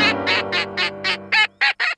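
Cartoon duck Pato from Pocoyó gives a run of about nine quick, loud quacks close up with no voices over them, the first few evenly paced and the last ones clipped and choppy.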